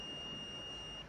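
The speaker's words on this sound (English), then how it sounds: "here I'm checking the continuity between the metal parts and the wire terminal" A continuity tester sounds a steady electronic beep for just over a second while probing between the metal body and wire terminal of an old ignition coil, a clean, sustained high tone with no talking.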